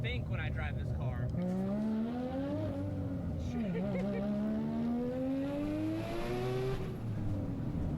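Loud Mazda RX-7 rotary engine revving up in a long rising whine, dipping briefly and climbing again, with people talking over it.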